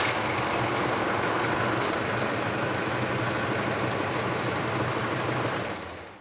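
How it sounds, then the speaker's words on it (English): A car engine starts and idles steadily for a few seconds during a power steering fluid flush, a constant broadband rumble that fades out at the end as it is switched off. "So we'll just start the engine for a couple of seconds and then flick it straight off."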